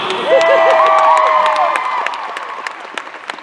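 A convention panel audience breaks into loud applause and cheering, with whoops and shouts over steady clapping, swelling early and then thinning into scattered claps.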